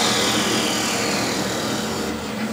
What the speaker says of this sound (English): Now I can part it off the lathe.